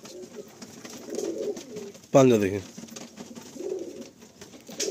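Madrasi pigeons, young birds that have not yet bred, coo in a low steady murmur beneath close conversation, with a brief louder voice cutting in midway.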